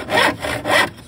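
A hand saw cuts through wood during a campervan bed build for a 1983 VW T3 Vanagon, with three loud, rhythmic rasping strokes heard close up and no talking.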